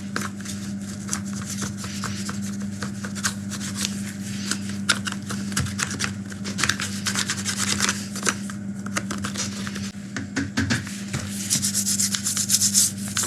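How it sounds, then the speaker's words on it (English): A putty knife scrapes the inside of a Husqvarna T540i XP chainsaw in steady, rapid rasping strokes, close and continuous over a low hum, with no talking. "Take your putty knife to the inside of the saw."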